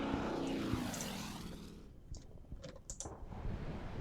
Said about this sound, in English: now I'm going to launch my torpedo bombers